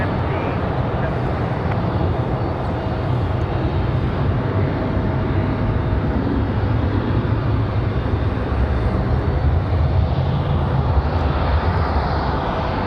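A Southwest Boeing 737-700 airliner taxiing at Raleigh-Durham airport gives off a loud, steady jet engine roar that barely changes over the span, broad and constant, with no talk over it.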